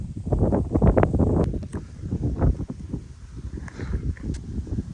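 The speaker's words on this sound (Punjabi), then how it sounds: "ਬਹੁਤ ਸਾਰੀ ਹਵਾ ਚੱਲ ਰਹੀ ਆ" Gusty headwind buffets the microphone in heavy rumbling bursts while cycling on steep sloping roads, with rustling outdoors and a few faint higher sounds in the background.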